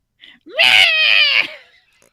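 A cat lets out one loud, drawn-out scream, a harsh rising wail lasting about a second, preceded by a short chirp and trailing off into silence.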